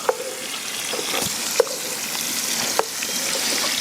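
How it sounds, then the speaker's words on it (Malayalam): Grated coconut frying in oil in a pan while cooking chicken perattu, a steady close sizzle broken by a few sharp clinks of a spoon against the pan. "തേങ്ങ ഇട്ട് കുറച്ച് നേരം ഒന്ന് എണ്ണയിലിട്ട് മൂപ്പിച്ചിട്ട് പിന്നെ തക്കാളി ഇടണം."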